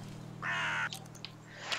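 A crow caws once, loud and close, with a couple of shorter squawks trailing after, over a steady low hum of background music in the fantasy crafting game Wytchwood.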